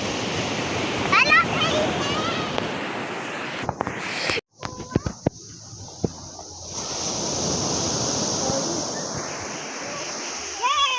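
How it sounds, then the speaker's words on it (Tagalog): Ocean waves surge and crash on a beach in a continuous loud roar and wash that cuts out briefly midway and then returns, with voices talking over the surf. "Rinig na rinig yung alon eh."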